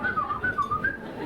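A voice imitates a snore with a thin, wavering whistle: a few short high-pitched whistling notes rising and falling in a quiet room.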